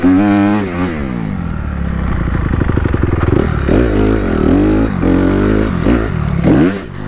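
A fuel-injected 250 dirt bike engine revs loudly and close, its pitch climbing and dropping through repeated throttle blips while riding, with no talk over it.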